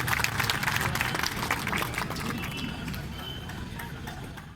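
An audience at a kavi sammelan poetry gathering in Prayagraj claps to welcome a poet onto the stage, a dense burst of applause that gradually thins and fades over a few seconds.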